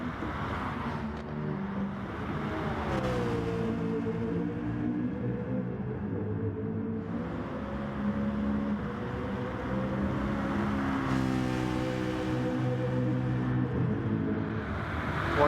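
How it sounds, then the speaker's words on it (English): Citroen Gr.3 race car in Gran Turismo roaring steadily down a straightaway on the Sardegna circuit, a loud sustained engine drone with rising pitch sweeps as it accelerates through the gears, with no talk over it. "We know how fast that Citroen is down this straightaway"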